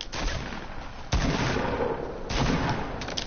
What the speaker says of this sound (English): Yo, I hear a lot of shots